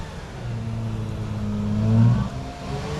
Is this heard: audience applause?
no